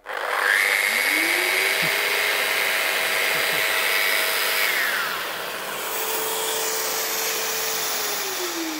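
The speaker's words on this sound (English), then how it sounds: "if I activate my Rotex machine, the vacuum should come on" A Festool Rotex sander whirs loudly alongside the steady roar of a Festool dust extractor vacuum, pitch shifting as the tool winds down and the vacuum keeps running.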